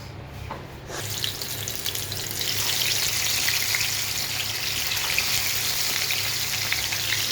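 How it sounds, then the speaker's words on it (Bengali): Bitter gourd pieces frying in hot oil in a home kitchen, a loud, steady sizzle that swells after the first second and holds. "করলা পিস দিলাম, মাছগুলো ভেজে নিই।"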